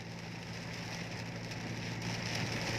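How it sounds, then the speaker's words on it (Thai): Heavy rain pours down steadily in a dense, unbroken hiss, drumming on a nearby surface with no pauses and no voices. "ฝนถล่มยังหนักพี่น้องเอ้ย"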